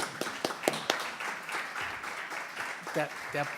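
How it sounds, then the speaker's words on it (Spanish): A conference audience claps after a speaker finishes a short presentation, with scattered hand claps and a spoken voice running over them. "Te aplaudimos por lo que dijiste y por respetar el tiempo,"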